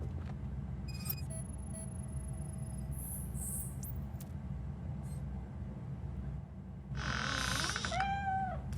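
A cat meows in the video game Robocop: Rogue City, a clear drawn-out meow late in the scene over a steady low ambient hum, with brief electronic chirps and tones earlier.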